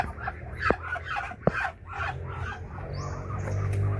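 Chickens cluck in a backyard poultry pen, a steady run of soft calls over outdoor ambience, broken by two sharp knocks and a low rumbling hum toward the end.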